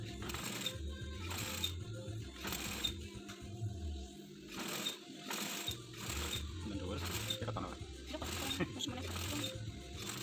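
A sewing machine stitches a shanghai collar in quick repeated bursts, its rhythmic mechanical clatter starting and stopping over several seconds at a fairly quiet level.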